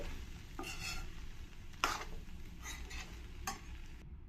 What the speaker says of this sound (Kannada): ಈಗ ಎಲ್ಲನೂ ನೀಟಾಗಿ ಮಿಕ್ಸ್ ಮಾಡ್ಕೊಳ್ಳೋಣ ಫ್ಲೇವರ್ಫುಲ್ ಆಗಿರೋ ಅಂತಹ ಕಾರ್ನ್ ಫ್ರೈಡ್ ರೈಸ್ ರೆಡಿ ಆಗ್ತಾ ಇದೆ